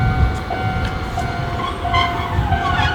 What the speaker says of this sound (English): This is the Sakura Tram.